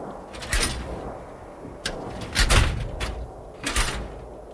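Metal drawers of gray steel cabinets pulled open in a small closet-like room as a radio drama effect, several rattling slides and clunks spaced irregularly, close and fairly loud, with no talk.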